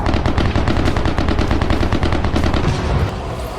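Intense close-range gunfire in a war zone, rapid bursts of machine-gun fire overlapping with individual shots in a continuous dense barrage, loud and unbroken, easing slightly near the end.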